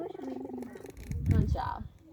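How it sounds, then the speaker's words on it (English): A zoo cheetah purring close up, a rough rumbling purr rising into a brief meow-like call, with a person talking softly over it. "He purrs and he meows, just like our little house cats do."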